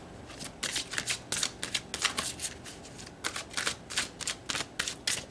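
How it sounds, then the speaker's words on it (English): A deck of tarot cards is shuffled in quick riffling bursts, soft and close, repeating in rapid flurries with short gaps between them. "Let's pull some more cards."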